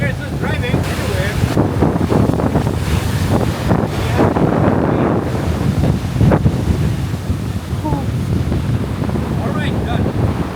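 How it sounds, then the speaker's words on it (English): Ocean surf at Auroville Beach, a steady roar of breaking waves mixed with heavy wind buffeting close to the microphone, loud and continuous throughout. "Very nice beach, Auroville Beach."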